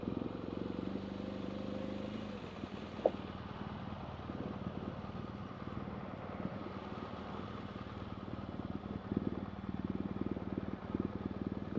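A motorcycle engine runs steadily through a beginner's first ride, its low droning hum holding at a fairly constant level with a brief sharp click near the start and slight throttle surges toward the end.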